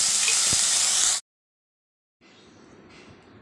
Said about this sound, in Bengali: তারপরে পনিরটা আমি ভেজে নিচ্ছি।